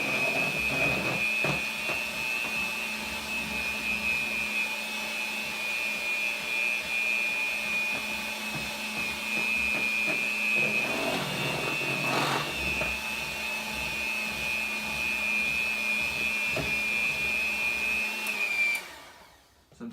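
An electric mixer beats a creamy mixture at a raised speed, giving a loud, steady motor whine that runs unbroken for about nineteen seconds before cutting off abruptly.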